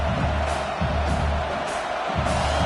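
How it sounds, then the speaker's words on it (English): A large football stadium crowd roars loudly and continuously near the goal line, a dense wash of cheering and yelling with some pulsing swells. "this big crowd doing everything possible to inspire this defense down here near the goal line"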